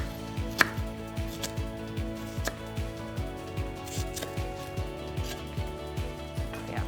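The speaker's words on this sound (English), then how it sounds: "So we'll start chopping this up. And we'll just dice them up pretty small." A knife chops onions on a cutting board with steady, crisp taps at about two per second, dicing them small, fairly quiet and close, with a low background hum and no talking.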